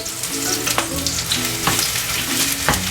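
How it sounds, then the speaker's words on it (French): Onions sizzle in a generous amount of olive oil in a hot pan, a loud close crackling fry broken by several sharp stirring and scraping clicks. "Donc mes oignons, voilà, la poêle est chaude, dans la poêle."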